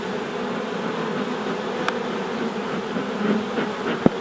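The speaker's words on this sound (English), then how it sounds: "I'll just clear a few of the bees off of there, look" Honeybees hum in a dense, steady buzz up close as they are cleared off a piece of comb at an open hive, with a few soft clicks and bumps of handling.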